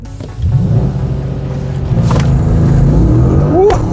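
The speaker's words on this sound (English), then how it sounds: "So Quinn's gonna let me launch his car against his better judgment" A car launches and accelerates hard at a Volkswagen show, the engine note rising loud and close from a rumble into a strained rev. Voices are heard faintly underneath.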